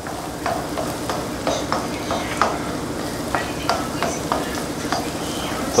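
Chopped onion with a little seasoning pepper sautéing in a pan, a steady soft sizzle with repeated light scraping strokes of a utensil stirring throughout, fairly close and continuous.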